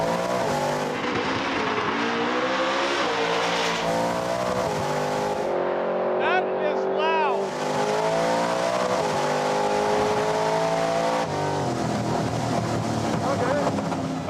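A 1000+ hp Pro Street Chevrolet Nova makes a drag race run, its engine roaring loud and continuous with rising and shifting pitch, wind noise buffeting the microphone and brief talk over it.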